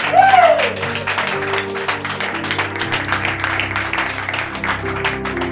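A church congregation at an evangelical men's congress applauds steadily, a dense wash of many hands clapping beneath sustained organ or keyboard tones, filling the hall at moderate loudness throughout.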